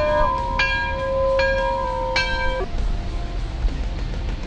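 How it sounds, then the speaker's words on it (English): A bell rings with a few bright, ringing strikes that hang and fade, over a steady low rumble of background noise from a 2019 GMC Sierra 3500 pickup truck. "Somebody ring the bell!"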